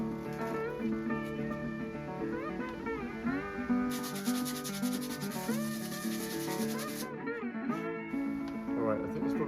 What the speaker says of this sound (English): I will be sanding it off